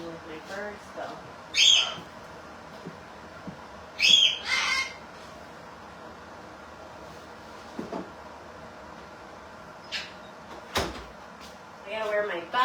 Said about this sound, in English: That's not Duncan, that's Newman yelling like Duncan